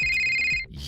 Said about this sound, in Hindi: ये अलार्म आखिर बज कहाँ रहा है?